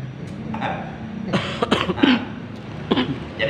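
A man who smokes coughs during a night-time Islamic study gathering: a cluster of rough, close coughs, then one more isolated cough, over a quiet room hum.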